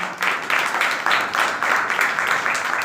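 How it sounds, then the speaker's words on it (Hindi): A church congregation claps at a pastor's call, a fairly close group applause falling into a loose rhythmic beat of repeated bursts, steady in loudness across the few seconds. "भाई के लिए भी जोरदार ताली"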